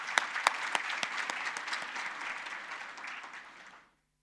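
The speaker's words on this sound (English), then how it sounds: "Let's give her another round of applause." Audience at a conference opening ceremony giving a round of applause, sharp individual claps standing out at first, then a steady clapping crowd that fades out toward the end.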